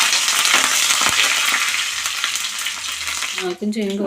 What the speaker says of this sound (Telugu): పోపు మాడిపోద్దని ఇంకా కరివేపాకు కూడా వేసేస్తాం